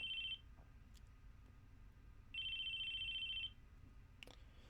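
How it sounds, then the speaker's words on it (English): A telephone rings in the Chaos;Head NoAH visual novel game, two bursts of a bright electronic trill separated by a pause, over a faint low hum and a couple of soft clicks. "It was the sound of a phone ringing."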